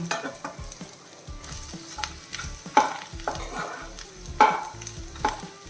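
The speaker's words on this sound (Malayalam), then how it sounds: "നമ്മുടെ സവാള വഴണ്ടിട്ടുണ്ട് ഇനി ഞാൻ ആ പീച്ചിങ്ങയും കൂടെ ഇട്ട് കൊടുക്കുകയാണേ" Ridge gourd tipped into a pan of sautéed onions hisses and sizzles steadily while a spoon stirs and scrapes, with a couple of louder clatters, close and moderately loud.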